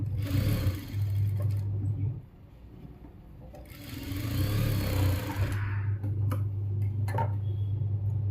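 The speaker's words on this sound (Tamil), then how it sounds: "இப்போ இதை வந்துட்டு ஒரு தையல் போட்டு எடுத்துக்கலாம்" A domestic sewing machine runs in two bursts, stitching a seam in slippery fabric, its steady motor whir loud and close with a rapid needle tick, then stops briefly before starting again for a longer run.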